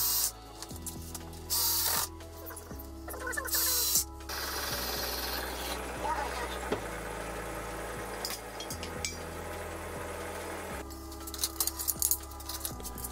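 Wood screws are driven into a wooden water rocket test stand with a power driver, giving several loud buzzing whirs of varying pitch that start and stop, with short gaps and scraping handling noises between them.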